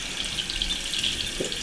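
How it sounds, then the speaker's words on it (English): Cold water runs steadily from a kitchen tap, a constant hissing splash into the sink with no pauses, moderately faint and heard alone. "I'm going to be getting the water good and cold."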